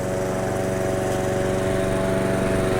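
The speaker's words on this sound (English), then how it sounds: "with a motorized push mower." A motorized push lawn mower runs steadily and loudly close by through the whole stretch, its engine drone unbroken with no talk over it.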